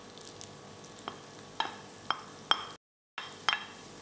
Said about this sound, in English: In a pan, heat a tablespoon ghee, then add in fresh grated coconut.